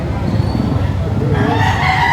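Chickens at a rainy livestock market in Padre Garcia, Batangas, clucking and crowing in a steady din beneath an auctioneer's voice calling prices.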